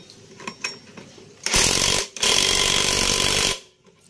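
A power tool tightens bolts on a Honda Beat ESP scooter's upgraded CVT: two loud, harsh bursts of whirring, the second longer, after a few soft clicks and knocks, with no talking.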